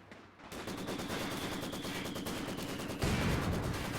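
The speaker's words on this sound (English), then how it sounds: "You got some very good mortar hits" Distant mortar impacts thud under steady, rapid machine-gun fire in a Company of Heroes 2 battle, the rattling continuous and loud with a heavier blast surging in partway through.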